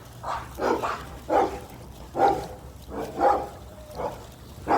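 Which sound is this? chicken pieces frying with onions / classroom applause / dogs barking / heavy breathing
dogs barking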